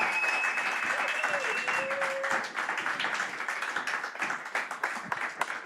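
A church congregation applauding during a Sunday morning service, steady dense clapping that fills the room throughout, with a sustained tone and voices faintly mixed in beneath.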